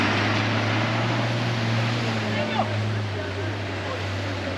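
A vehicle without a V6 or V8 engine crosses a river in the Masai Mara, a steady low engine drone mixed with rushing water and splashing, while people talk over it.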